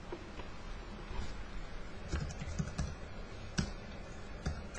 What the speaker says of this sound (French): Je tape le nom d'un avatar.